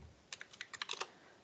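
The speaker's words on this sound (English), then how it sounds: "you are typing" Quick bursts of clicky keystrokes tap on a computer keyboard, about a dozen in a short run, close and quiet.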